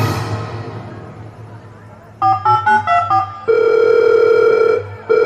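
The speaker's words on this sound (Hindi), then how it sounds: "अरे रहने दीजिए शारदा जी, नहीं उठाएगा आपका बेटा फोन।" A telephone rings unanswered during a school annual function drama on stage, heard as a run of short repeated electronic tones, then a long steady tone, loud over a room murmur.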